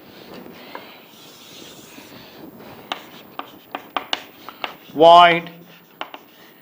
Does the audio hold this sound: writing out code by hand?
yes